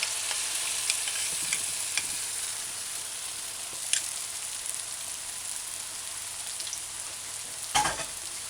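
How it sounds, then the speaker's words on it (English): Okra fritters fry in hot oil with a steady, fine crackling sizzle, close and fairly quiet, with a few soft utensil taps and one louder clatter near the end, and no talking. "And be sure to put each fritter in its own little spot in the heating oil."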